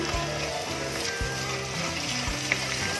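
Green chili and curry leaves sizzle in a pan with softening onion for a spicy mutton fry, a steady close hiss running throughout with a few low knocks, no talking.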